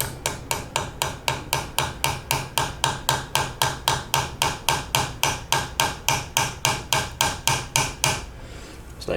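A hammer taps a brake caliper pin while Brembo brakes go onto a third-generation Lexus IS: about two dozen sharp, evenly spaced metallic strikes, close and loud, in a steady rhythm for roughly eight seconds.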